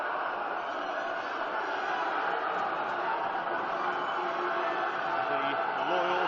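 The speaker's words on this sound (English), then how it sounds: "Crowd here get louder." Supporters at a youth FA Cup football match keep up a dense, steady roar of crowd noise that swells slightly louder, with a commentator speaking over it.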